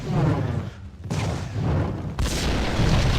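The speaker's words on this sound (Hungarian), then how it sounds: "Rám robbantották volna az épületet" A building blows up in the game Max Payne: loud booming blasts with a sharp burst near the start and another heavy rumbling hit about two seconds in, close and dominant.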